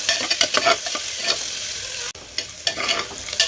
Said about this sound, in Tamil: இந்த வெங்காயம் வதங்கிறதுக்கு மட்டும் கொஞ்சமாக எண்ணெய் இருந்தால் போதும்